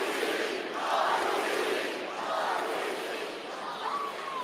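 A large wrestling crowd cheers in rolling swells, loud but distant and continuous, with scattered shouts rising and falling across the roar.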